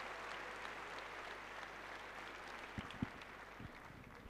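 A French crowd at a men's singles badminton final in Orleans applauds a rally with steady, fairly distant clapping and a few sharper claps near the end.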